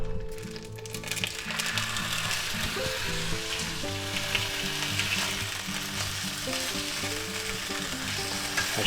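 Vienna sausages fry in hot oil in a pan with a steady, close sizzle and crackle, while stirring adds scraping under a continuous background melody.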